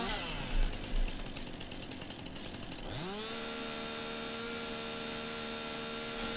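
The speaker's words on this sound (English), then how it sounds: "This lumberjack mod is really useful, because it allows me to chainsaw the stumps rather than having to get a stump grinder" Chainsaw cutting tree stumps in the video game Farming Simulator 19, a rough buzzing cut with a couple of thumps, then the engine drops and settles into a steady droning idle that hums on alone.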